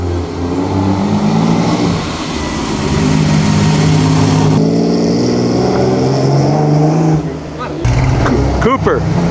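Classic Ferrari racing by in the Mille Miglia, a sustained loud engine roar that swells and shifts pitch, with a brief drop and rising rev near the end; a voice speaks over it.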